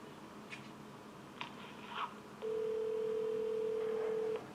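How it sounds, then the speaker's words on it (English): An iPhone dials 911 in an animated story: a few faint beeps over quiet background, then a steady tone holds for about two seconds. "I pull out my iPhone and dial 911."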